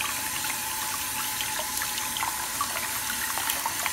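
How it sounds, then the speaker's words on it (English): Dentures rinsed under a running kitchen tap, the water hissing in a steady, close, even stream for several seconds with no voices. "Now I'm rinsing the teeth off."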